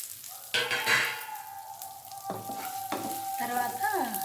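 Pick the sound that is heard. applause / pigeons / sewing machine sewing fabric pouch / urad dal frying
urad dal frying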